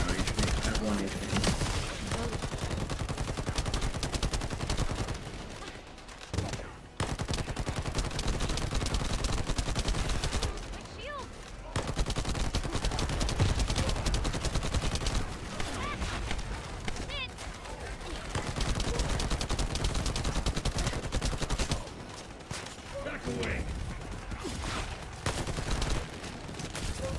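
Sustained gunfire in the shooter game The First Descendant, aimed at a turret: dense, loud bursts of automatic shots run almost continuously, broken by a few short lulls, with voices talking over the shooting.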